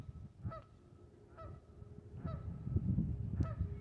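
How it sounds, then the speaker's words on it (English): Nesting geese give four spaced honks, each a short call, set against a low rumble of wind or water that builds toward the end, the birds sounding moderately distant. "Definitely a lot of nesting geese here."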